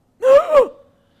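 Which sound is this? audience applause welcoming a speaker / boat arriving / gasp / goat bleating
gasp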